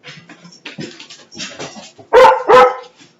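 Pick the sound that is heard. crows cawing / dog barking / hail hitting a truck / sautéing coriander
dog barking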